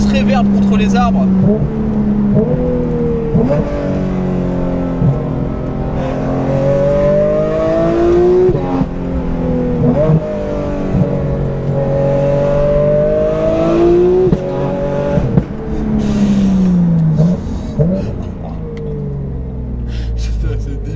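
A loud Porsche RSR race car engine with full GT3 intake revs repeatedly, pitch climbing and falling in sweeping bursts, echoing off nearby trees with a brief voice mixed in.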